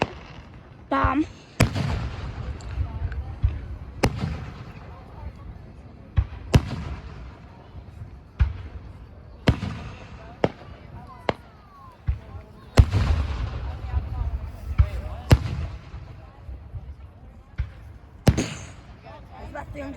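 Fireworks go off outdoors in Lapeer, with sharp booms and cracks repeating every second or two over about twenty seconds at middling distance, and people talk now and then between the blasts.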